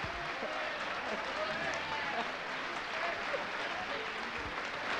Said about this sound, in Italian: Signore e signori, facciamo un applauso per Nada